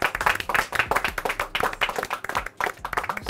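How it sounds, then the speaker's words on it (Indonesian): A group of people clap together for about three seconds in a Malaysian thrift-bundle shop, the dense, rhythmic hand claps close and steady with brief dips between bursts. "Tepuk."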